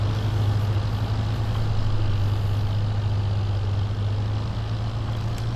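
Tractor in Farming Simulator 22 hauling a heavy trailer, its engine a steady low drone held at constant pitch throughout, with no speech.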